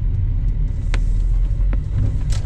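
A car engine hums steadily as the driver slows and shifts into second gear before turning at a junction, a loud low rumble inside the cabin with a few faint clicks and no voices.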